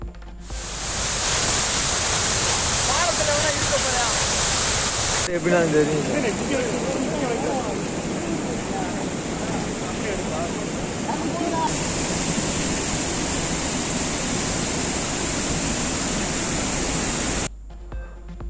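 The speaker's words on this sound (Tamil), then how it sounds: "தேனி மேகமலை அருவியில் திடீர் வெள்ளப்பெருக்கு. தரைப்பாலத்தை மூழ்கடித்து தண்ணீர் ஆர்ப்பரித்த நிலையில்" A flash flood surges over the Megamalai waterfall in Theni, water roaring and submerging a causeway, a loud continuous rushing torrent heard close up with wind buffeting the microphone.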